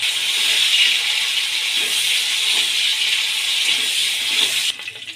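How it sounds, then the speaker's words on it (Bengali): Cut potatoes sizzle in hot oil in a home kitchen pan, a steady close frying hiss that holds for several seconds, then dips briefly near the end. "তেল গরম হয়ে গেছে, এবার আমি কেটে রাখা আলুগুলো ভেজে নেব।"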